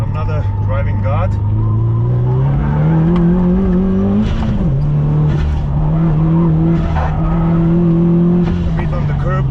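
A Subaru STI lapping a karting track, its engine droning and rising steadily through gear changes with a brief bump over the curb midway, loud and continuous, with a voice talking over it.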